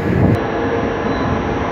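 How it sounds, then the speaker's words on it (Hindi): Suburban train pulling into Parel station in Mumbai, a loud continuous low rumble of wheels and carriages rolling close by, steady throughout. "ये पैरल का ट्रेन आ रहा है"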